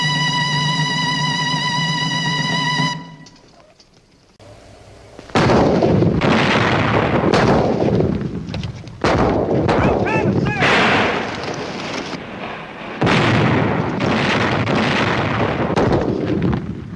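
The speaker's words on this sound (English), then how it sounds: "Siege guns. Bigger than anything we got." Siege cannon artillery fires in a battle at the Alamo in 1836, with loud booming blasts arriving in several bursts after a sustained tone, each leaving a long rumbling decay.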